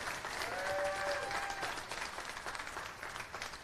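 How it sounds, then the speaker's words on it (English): Steady applause from a live show audience, dense clapping from a crowd that holds at an even level, with a brief faint whistle early on. "A round of applause."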